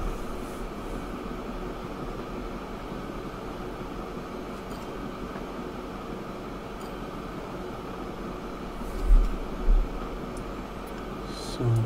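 A train in the game Train Fever (USA DLC) pulls into a station and begins braking, giving a steady, continuous rolling rumble with a couple of brief louder bumps near the end.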